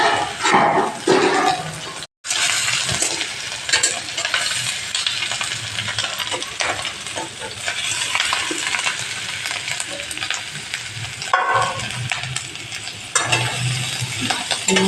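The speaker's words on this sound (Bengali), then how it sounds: "তারপরে ক্যাপসিকামগুলো দিয়েছি।" Capsicum sizzles and crackles in hot oil in a wok, with a steady loud frying hiss, occasional stirring scrapes and a brief gap near the start.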